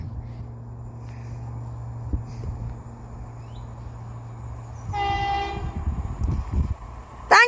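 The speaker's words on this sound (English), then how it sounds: "Now passing through is going to be a Chiltern Railways Class" A Chiltern Railways Class 165 diesel multiple unit passes through Kings Sutton station, with a steady low engine rumble that swells as the train nears, a horn sounding midway and a brief whistle at the end.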